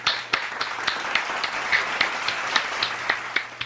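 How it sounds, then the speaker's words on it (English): A studio audience applauds a contestant on a game show, with scattered distinct claps over a steady crowd patter that stays moderately loud and close throughout. "give a hearty round of applause for Mr."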